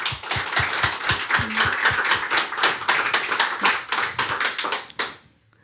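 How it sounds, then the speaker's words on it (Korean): Church congregation applauding in thanks during a Korean worship service, a dense burst of claps lasting about five seconds before stopping abruptly into quiet. "우리 하나님께 감사의 박수 올려드리겠습니다."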